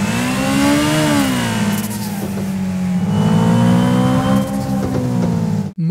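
A simulated car engine in an Unreal Engine 5 audio system revs up and down in smooth swells, a loud, close, harmonic drone that rises, dips and climbs again before cutting off abruptly at the end.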